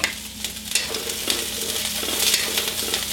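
Cauliflower sizzling in hot oil in a stir-fry pan, a close, continuous crackling fry punctuated by stirring scrapes and louder bursts as the pieces are tossed.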